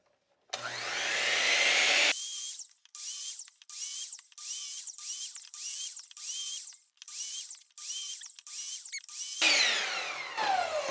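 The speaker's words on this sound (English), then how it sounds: "So now I'm going to cut 10 pieces at exactly the same length." A power saw cuts wood pieces to length: one long whining cut, then about ten short, evenly spaced bursts of saw noise with silent gaps, and a final longer cut that winds down, all close and loud.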